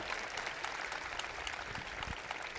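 An audience at a panel discussion with LA Galaxy and Javier "Chicharito" Hernández claps in a faint, dense patter that runs evenly through the whole moment, heard from a distance.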